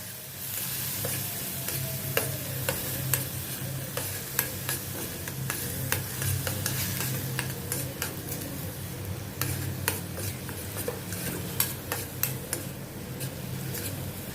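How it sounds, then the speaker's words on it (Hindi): Finely chopped onion sautés in a pan for restaurant-style bhindi masala, with a steady close sizzle and scattered clicks of a spoon stirring throughout. "इसमें अभी मैं एक फाइन कटा हुआ प्याज डालती हूँ। इसको अभी मैं थोड़ा सौते करती हूँ।"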